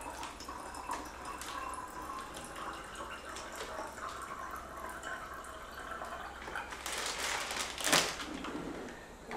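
Water trickles and splashes steadily into jars of brewing water kefir, with a brief louder gurgling pour near the end and faint clinks in the background.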